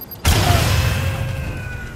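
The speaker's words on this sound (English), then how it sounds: "this is gonna create some giant explosion" An explosion goes off in Watch Dogs 2 after a tram crash: a sudden heavy boom that gives way to a sustained low rumble with a thin ringing tone over it.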